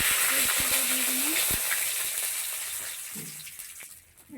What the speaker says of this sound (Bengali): এদিকে আমার তেল গরম হয়ে এসছে, তখন তেজপাতা দিয়ে দিলাম